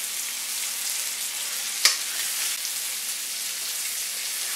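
Afghani chicken pieces brown in a hot pan with a loud, steady hiss of frying and one sharp crackle partway through, with no voices.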